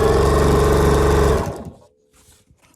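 A sewing machine stitches a binding strip onto the edge of a quilt, a loud fast mechanical whirring that runs steadily for over a second, then winds down and stops, leaving a faint hum and light handling clicks.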